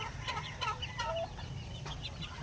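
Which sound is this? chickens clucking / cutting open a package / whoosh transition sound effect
chickens clucking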